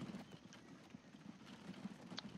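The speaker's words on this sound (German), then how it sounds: "da kommt das erste Fuhrwerk" A horse-drawn wagon in the Transport Fever game gives a brisk, regular clip-clop of hooves, fairly quiet and close, with no talk over it.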